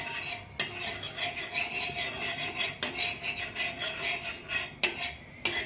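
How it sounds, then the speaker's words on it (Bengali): Oil is rubbed and spread across a hot tawa griddle with a steady, close scraping rasp, a few sharp strokes standing out, while making soft chitoi pitha. "তেলটা সব জায়গায় মাখিয়ে দিতে হবে।"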